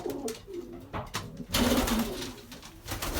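Pigeons cooing inside a loft, soft rounded coos rising and falling near the listener, with a louder burst of cooing and flutter-like rustle in the second half.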